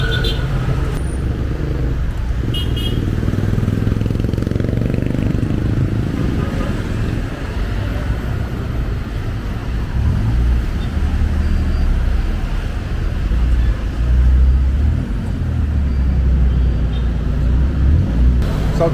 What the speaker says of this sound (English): Give you a little idea of the traffic that's going on here.